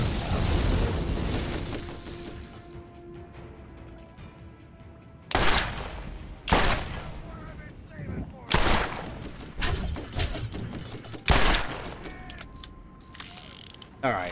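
A fire elemental gun fires in the game Borderlands with several loud, spaced shots and bursts, each decaying with a mechanical clatter, and someone talks in the quieter stretches between them.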